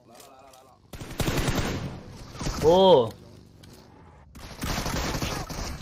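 Rapid gunfire bursts in a battle royale mobile game match at a garage, loud and dense, running under excited Hindi commentary throughout.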